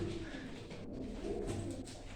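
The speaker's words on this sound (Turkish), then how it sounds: "1980'den beri beslenen kuşlar beyler" Soft, low pigeon coos repeat in a steady murmur against a constant outdoor background hum, with no voices.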